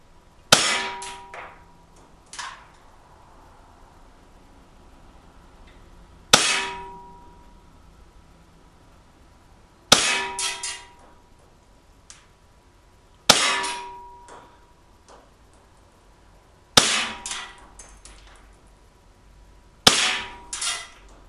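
Sig Sauer We the People 1911 CO2 blowback BB pistol fired at a target about 30 feet away: sharp, loud cracks with metallic clangs of BBs striking, spaced irregular pops and pings with no voices.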